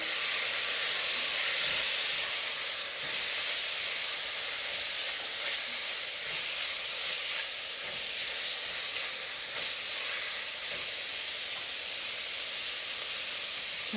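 Shrimp and garlic frying in a hot pan, a steady loud sizzle and hiss that holds at an even level throughout, close and uninterrupted.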